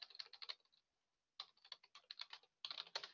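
Rapid keystrokes on a computer keyboard come in three close bursts separated by short silences, crisp and clicky with no speech.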